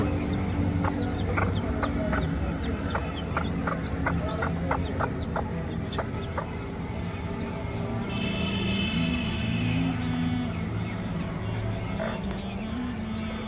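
A hen whose chicks are hatching clucks repeatedly in short bursts, with a brief higher chirping later; a low steady background hum runs throughout.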